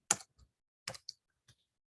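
A few sparse key taps on a computer keyboard, close and crisp, spaced irregularly with short silences between, entering a search term in a web application.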